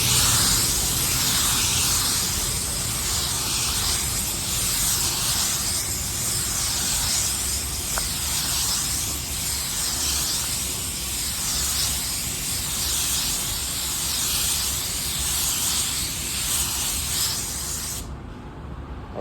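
A continuous, loud, close hiss of an automotive spray gun laying down a metallic paint coat at lowered pressure, steady for nearly twenty seconds before cutting off abruptly at the end.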